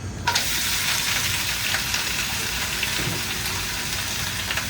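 Chili oil and seafood hitting a smoking-hot wok for seafood jjamppong, an instant loud, dense sizzle that holds steady and close throughout, with scattered crackles and no voices.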